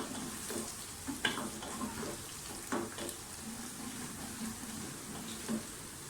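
Mutton masala with green chillies being fried and browned in a pan, a steady low sizzle running throughout with a few soft scrapes of stirring, fairly quiet and without any speech.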